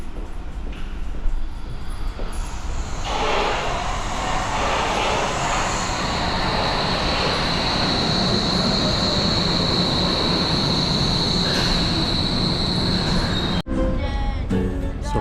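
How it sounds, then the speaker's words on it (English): A Hamburg U3 underground train arrives at a station with a steady loud rumble, drawn-out high wheel squeal and roaring carriages that last the whole stretch before an abrupt change near the end. "there's our train right now."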